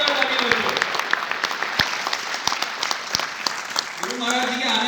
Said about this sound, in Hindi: Please sir, give a very big round of applause sir के लिए।